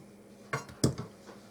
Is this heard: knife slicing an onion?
yes